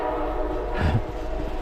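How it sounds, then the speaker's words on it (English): A Norfolk Southern train rumbles through a rail tunnel, its steady low roar swelling briefly as the horn sounds near the middle, with no voices. "Damn it, we got a train."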